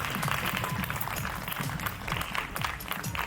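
A crowd at a student fashion show matinee keeps up continuous clapping, a thick, even wash of applause with no pauses and no talking.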